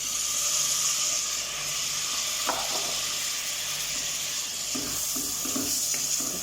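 Tomatoes hit a hot pan for masala khichdi with a loud, steady sizzle and hiss that runs throughout, with a few stirring scrapes near the end.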